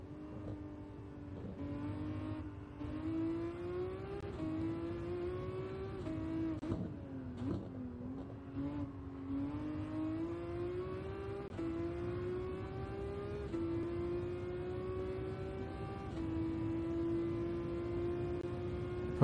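Race car engine in Gran Turismo 7 at Monza through the Lesmos in third gear, a continuous buzzing roar whose pitch climbs and dips with throttle, one brief drop around a lift, close and steady.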